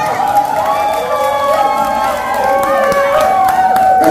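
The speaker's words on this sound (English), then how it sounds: "Oh, give us a round of applause." Loud cheering and clapping at a Ghanaian traditional engagement ceremony, a lively crowd with high excited shouts and ululating voices layered over applause, continuous and building toward the end.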